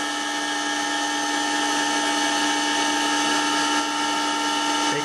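A motor driven by a Powtran VFD runs at a set RPM, giving a loud, steady whine with constant tonal hum throughout, no voices.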